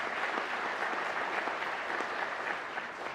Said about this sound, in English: Would you give yourselves a round of applause for your sacrifice and service to our